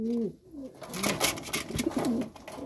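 Pigeons cooing in a loft, several soft rolling coos overlapping close by, with wing rustles and shuffling in the busy enclosure.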